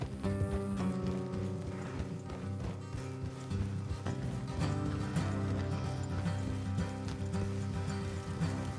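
Several horses trot along a road in Red Dead Redemption 2, their hoofbeats a steady, close clip-clop layered over a continuous background of game music and ambience, with no talk.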